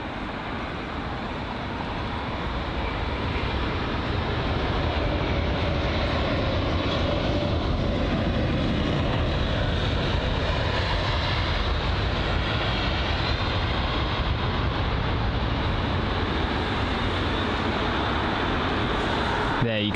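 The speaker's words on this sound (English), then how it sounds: "the landing there from the A330-900" An Airbus A330-900 lands at London Heathrow, a loud, continuous broadband roar of engines and rushing air that holds steady and close throughout.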